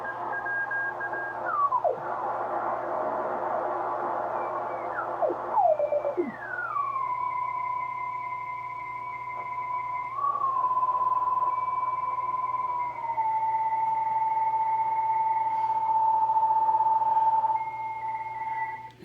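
Radio signals tuned in on the 40 meter amateur band, with steady data tones holding level and stepping between pitches, sliding tuning sweeps early on and a constant background hum throughout, fairly loud and unbroken.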